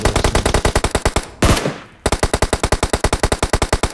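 Automatic gunfire in a video game shooter, with rapid, evenly spaced shots cracking out close and loud, broken by one heavy blast that rings out before the steady firing resumes.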